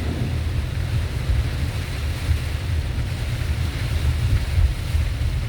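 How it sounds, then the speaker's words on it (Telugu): Heavy rain pours outside in a dense, constant roar with a deep rumbling undertone, loud and unbroken throughout, with no voices. "చాలా పెద్ద వర్షం ఉంది బయట."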